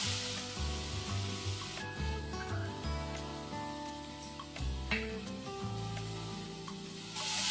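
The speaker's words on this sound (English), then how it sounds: "we're going to saute these onions till they are nice, soft and translucent" Onions sauté with salt in a pan, a steady bright sizzle that crackles continuously, layered with a low tonal hum and occasional stirring clicks.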